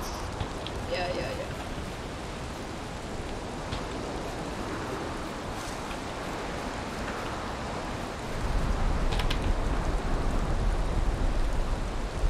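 Steady rain falls in the video game Valheim, a dense constant hiss that swells louder for the last few seconds, with no voices over it.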